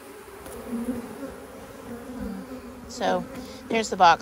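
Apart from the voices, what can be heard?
honey bees buzzing on a hive frame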